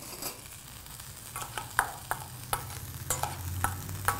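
Brèdes sautéed with chorizo in a little oil are stirred in a pan, giving a steady sizzle with repeated clinks and scrapes of the utensil against the pan, close and fairly quiet, with no talking.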